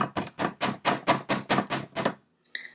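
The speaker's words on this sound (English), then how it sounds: "maybe I will chisel in this spot" A run of about ten sharp, evenly spaced hammer-and-chisel strikes on a frozen ice egg encasing a toy dinosaur, loud and close, followed by a brief pause and one fainter tap.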